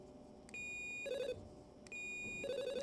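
E-Collar Technologies dog training collar sounds its tone, with two repeated electronic beeping and ringing bursts, each rising into a higher warbling chime, fairly faint against a quiet background.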